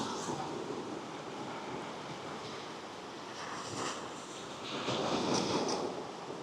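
Ocean waves near a lighthouse roll in as a continuous broadband surf roar, swelling slightly toward the end, with some wind mixed in and no talking.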